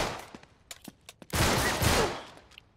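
Rapid bursts of gunfire from the video game Uncharted 3: Drake's Deception, a few sharp separate shots followed by a loud sustained volley of automatic fire, heard on their own with no talking.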